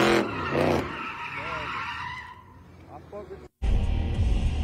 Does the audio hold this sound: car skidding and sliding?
yes